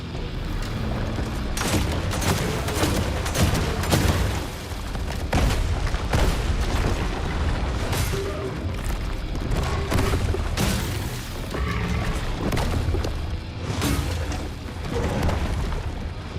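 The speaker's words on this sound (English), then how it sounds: "Whole screen just fucking exploding" Video game explosions fill the screen in a dense, loud barrage of booming blasts and crackling bursts, one after another for over fifteen seconds with barely a pause.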